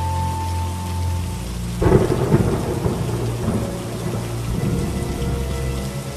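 Heavy rain pours steadily while a deep thunderclap breaks in and rolls on with rumbling low crackles, loud and close throughout.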